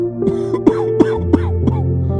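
An old man gives a series of about five short, rough coughs at a steady pace over a low, continuous hum, close and moderately loud.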